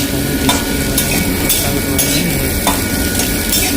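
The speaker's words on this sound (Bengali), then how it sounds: "তেল গরম হয়ে যাওয়ার পরে সয়াবিন আগে থেকে বেছানো ছিল সেটা ভাজতে দিলাম।" Pre-soaked soybean chunks fry in hot oil with a steady, loud sizzle, while a utensil scrapes and stirs the pan in regular strokes, with no voices.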